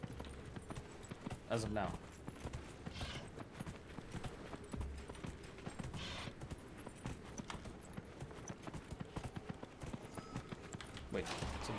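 Horse hooves clip-clop in the video game Dragon Age: Inquisition, a steady rhythmic trot running throughout at moderate level beneath a person talking.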